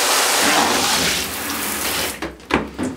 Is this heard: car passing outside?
no